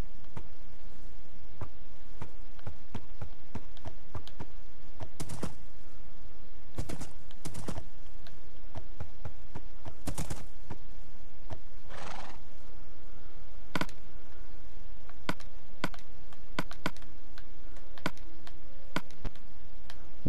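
Horse sounds in the video game Minecraft: scattered sharp clip-clop taps from hooves across a steady game-ambience bed, plus a few louder brief bursts that may be whinnies or neighs.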